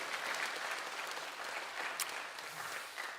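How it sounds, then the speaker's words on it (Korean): Steady applause from a church revival audience in Yeosu, a dense wash of many hands clapping at even loudness throughout, with no one talking over it. "박수로 한번 축복."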